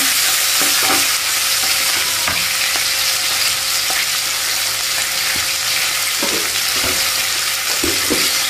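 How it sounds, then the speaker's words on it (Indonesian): Fried rice with pete beans sizzling and frying in a pan, seasoning and broth stirred in, with steady loud sizzle and repeated scraping stir strokes throughout. "masukkan bumbu pakai kaldu diaduk pelan"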